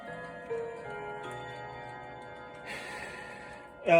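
A 1950s Forestville mechanical clock made in Canada ticks steadily in a quiet room, its soft regular beat close and alone, with a brief brighter chime-like ring near the end.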